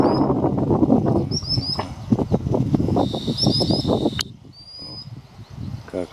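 A small bird flutters its wings close by along a river, with chirpy calls and a short burst of whistling song over a rushing background rumble.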